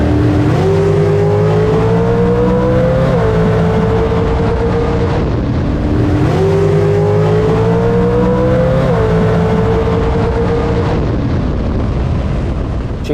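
A bracket racing car roars down a drag strip at full throttle, the engine note climbing through gears in two long rising sweeps, loud and close, with heavy wind rumble throughout.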